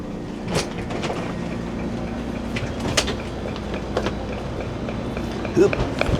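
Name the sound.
train arriving at station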